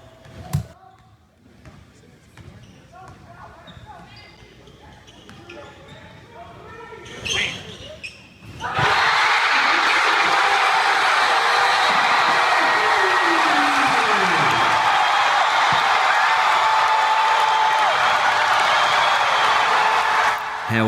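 Basketball crowd on a Silent Night tradition, hushed for several seconds with a speaker talking and faint sounds, then suddenly erupting into a loud, sustained roar of cheering that holds to the end.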